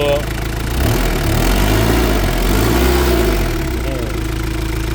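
A used four-door pickup truck's engine idles close by, loud and continuous with a low, steady rumble and some irregular wavering in pitch.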